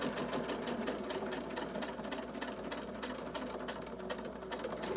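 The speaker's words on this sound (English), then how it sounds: "we're going to top stitch all the way around" A sewing machine hums steadily and close up while top stitching around the edge of a fabric mask, with a fast, even needle rhythm running without a break and no talking.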